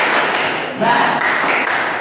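A classroom group performs the rhythmic 'tepuk semangat' spirit clap, dense overlapping claps filling the moment at close range with a brief dip midway, voices mixed in.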